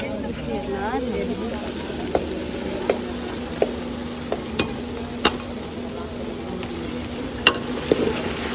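Spices being fried and stirred in a cooking pot, with a steady low sizzle and scattered sharp clinks of a spoon against the pot, under ongoing talk.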